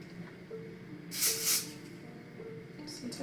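Aerosol adhesive spray misted onto the lace of a glueless chestnut wig, a single soft hiss lasting about half a second, close and moderately loud over quiet room noise.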